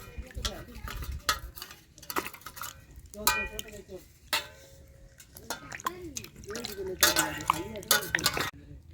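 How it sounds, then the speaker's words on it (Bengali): Raw chicken pieces rinsed by hand in a bowl of water, with intermittent splashing, dripping and clinking of a metal pot or utensils, close up, while a person talks over it throughout. "প্রথমে ভালো করে চিকেনটা ধুয়ে নিচ্ছি"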